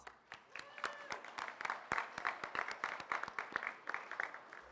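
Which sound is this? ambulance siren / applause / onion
applause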